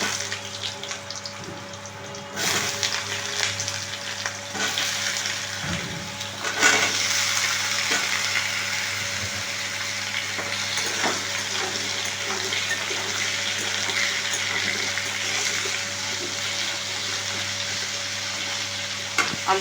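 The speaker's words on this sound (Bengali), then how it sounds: "আলুটা একটু ভেজে নেব।" Potatoes sizzle steadily in hot oil in a pan, with a continuous broadband frying hiss and occasional scraping stirs, close and fairly loud throughout.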